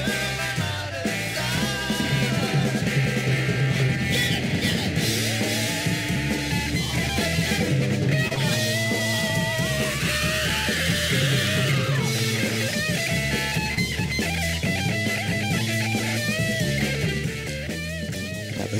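Sloppy, amateurish fuzz-distorted rock guitar churns through a dense, loud full-band passage with drums, continuous and unbroken, with no talking over it.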